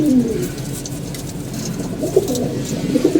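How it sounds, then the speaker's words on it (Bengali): Pigeons coo softly and repeatedly, with low throaty calls over a steady outdoor hum. "আর এদিকে কিছু কবুতর আছে"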